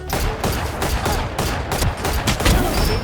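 Dense, loud gunfire fills a shooter video game while the player jump-shoots, with overlapping bursts and rapid shots running continuously without pause.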